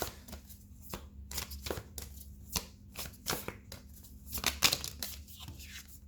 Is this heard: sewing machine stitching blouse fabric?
no